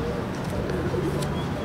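A pigeon, a male paired with a female in a loft, gives soft low coos beneath steady background noise nearby. The calls are close but fairly quiet, and no one talks over them.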